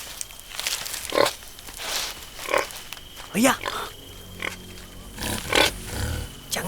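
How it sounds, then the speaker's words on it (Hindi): Wild boar grunting in a forest scene from a Hindi-dubbed South Indian film, with several short rough grunts and snorts arriving in bursts over a noisy background while people speak between them. "जंगली सुअर।"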